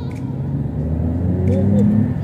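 A Peugeot 107 hatchback with a 1000 cc engine accelerates, its engine note rising in a low steady rumble that grows louder over a couple of seconds, heard from inside the car.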